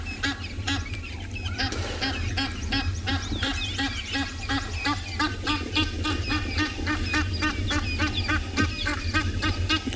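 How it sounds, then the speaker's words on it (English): An Egyptian goose honks over and over in rapid, harsh, rhythmic bursts, loud and close, sounding agitated throughout. "Less than glorious sound of an irritated Egyptian goose."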